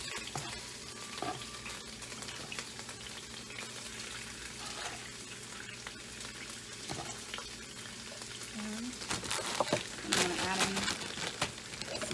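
Onions hitting a hot pan while chicken fajitas cook, a continuous close sizzle and crackle with occasional stirring clatter throughout.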